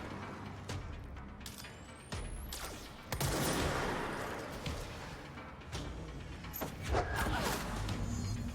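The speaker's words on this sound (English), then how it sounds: "Whoever's shooting at me needs to stop." Gunfire in the video game Control pops in scattered bursts, moderately distant and fairly quiet, over a rumbling backdrop of combat noise.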